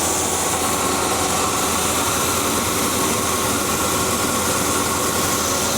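The engine of a 1978 Squarebody truck, fitted with new plug wires, distributor cap and rotor, idles smoothly and continuously. It sits close and fairly loud within a steady wash of broadband noise.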